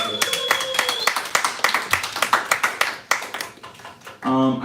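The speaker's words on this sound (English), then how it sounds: "Let's give him a round of applause." A small audience at a live poetry reading claps in a loose, close-miked round of applause, individual hand claps distinct and rhythmic, ending as a voice begins speaking.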